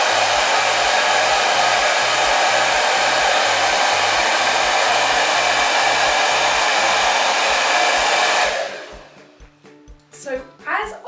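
A hair dryer roars in a steady, loud, unbroken blast while hair is blow-dried, then switches off, leaving quieter handling sounds and brief murmurs near the end.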